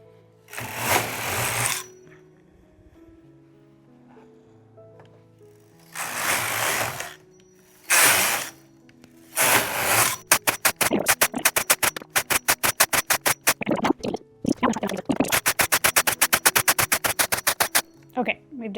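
A circular knitting machine works purl needles, giving short whirring passes at first and then a long run of rapid, evenly spaced mechanical clacks, loud and close, with a short pause partway through.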